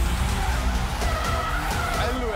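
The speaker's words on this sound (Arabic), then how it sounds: "شلت الهاند بريك خلص السيارة فلتت مني" A car in a drifting video game skidding after the handbrake is pulled, a continuous tire squeal and engine roar running throughout, loud and close, with voices over it.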